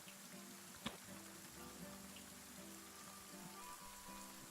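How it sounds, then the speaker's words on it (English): Rain patters steadily on a surface, a faint continuous hiss with scattered drops and one sharper tap early on. "Of course, it's raining."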